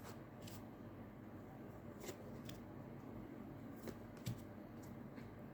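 Tarot cards shuffled at a steady pace, giving soft riffling and flicking sounds over a constant background hiss, with a few sharper taps.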